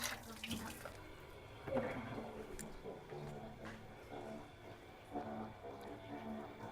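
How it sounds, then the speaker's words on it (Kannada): Water poured into gram flour in a home kitchen, a steady splashing pour running for several seconds under background music and nearby voices. "ನೆಕ್ಸ್ಟು ನೀರು ಹಾಕೋಬೇಕು."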